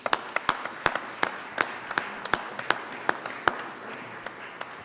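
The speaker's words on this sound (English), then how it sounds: "please give them a round of applause." Sparse applause in the Colorado Senate chamber, a modest number of hands clapping in an uneven rhythm for several seconds, moderately loud in a reverberant hall with no talking.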